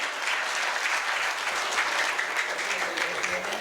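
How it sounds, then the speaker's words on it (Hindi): Steady applause from an audience at a school performance event, sustained clapping filling the room for a few seconds without a break. "बहुत बहुत इनके लिए एक बार और तालियां।"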